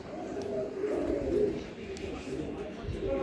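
A Giribaj pigeon coos in low, rolling murmurs close by, with soft speech and handling noises around it.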